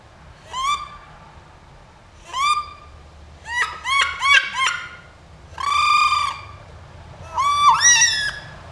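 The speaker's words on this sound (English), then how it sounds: "Duck Commander wood duck call" Series of harmonic squealing wood duck calls from a single-reed Duck Commander call, single notes then a rapid cluster of rising whistles, close and clear over a low background hum.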